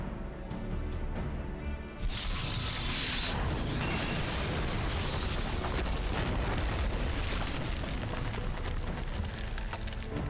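A massive explosion in Final Fantasy XIV erupts suddenly after a quieter opening, then rolls into a long, loud, dense roar of blast and rumbling debris that fills the rest of the span.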